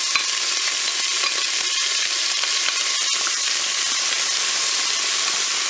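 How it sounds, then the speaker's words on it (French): Onions frying in hot oil in a Cookeo multicooker, a loud, dense, continuous crackle and sizzle with sharp spitting pops, steady and close throughout with no talking. "Voilà, faut faire attention, ça crépite fort"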